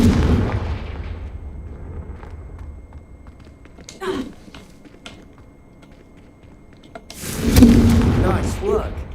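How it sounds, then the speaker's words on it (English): Confringo spell blasts in Hogwarts Legacy, a few sharp bursts standing out, with a louder, denser blast near the end among ambient game sound and voices. "I think you'll find that a Confringo cast travels a bit farther than that of a spell like"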